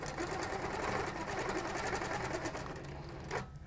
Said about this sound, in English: and then we're stitching around